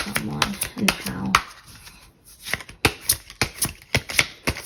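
Tarot cards shuffled by hand: a run of crisp riffling clicks and snaps, close and fairly loud, with speech heard over the first second and brief pauses between bursts.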